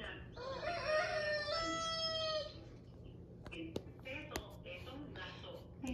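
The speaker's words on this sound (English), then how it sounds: "This is a rooster. Roosters is a male chicken." A rooster gives one long, loud cock-a-doodle-doo crow up close, followed by shorter clucks and scattered calls.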